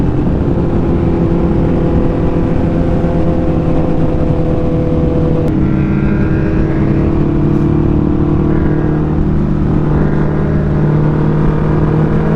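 A Suzuki Hayabusa motorcycle's engine revs loud and close for about twelve seconds, a sustained roar that dips and climbs again partway through, with no voices.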